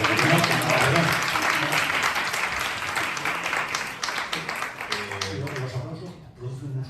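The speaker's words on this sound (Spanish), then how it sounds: "Un aplauso, por favor." An audience at a round-table discussion on literary criticism claps steadily in a dense, moderately distant wave of applause that gradually thins toward the end, with faint voices underneath.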